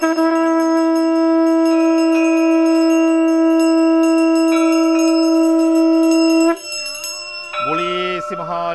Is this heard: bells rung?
yes